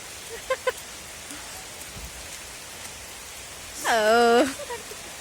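Steady rain hisses throughout, with a short burst of a voice near the end.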